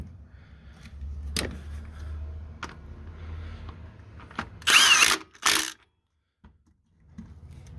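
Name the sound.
Milwaukee M18 Gen 2 mid-torque impact wrench removing bolts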